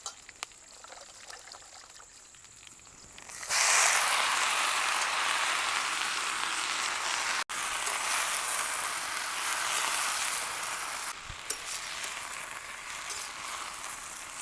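Vegetables drop into hot oil with fried green chillies, bursting into a loud, steady sizzle that holds for several seconds and eases slightly near the end, close up with no talking.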